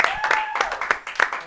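Brief audience clapping for a performer at a live variety show, a few spaced claps partly buried under a speaking voice and background tone.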